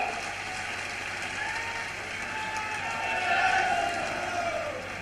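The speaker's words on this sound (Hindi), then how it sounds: "जोरदार ताली बजाओ" Loud, sustained applause and crowd noise fill a stadium at a public inauguration event in Bhopal, a steady roar of many hands that swells slightly toward the end.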